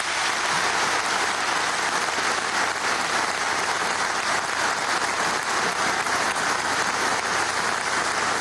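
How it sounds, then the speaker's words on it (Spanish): Sustained applause from a large audience in a military university auditorium, dense and steady for the full stretch with no speech over it. "Un fuerte aplauso, por favor,"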